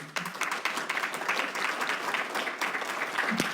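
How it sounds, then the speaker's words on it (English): Audience at a town hall on jail overcrowding applauds a panel, steady dense clapping throughout, moderately near, with no talk over it. "I might suggest a round of applause for our panel this evening."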